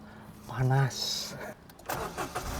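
A Suzuki S-Presso AGS car's engine is started with a key: a brief cranking whir and catch, then a soft idle with a short electric whine, while a person speaks briefly.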